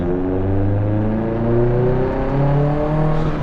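A Subaru STi with a big turbo pulls under throttle, a dense throbbing engine drone with shifting tones heard from inside the car, loud and continuous for a few seconds.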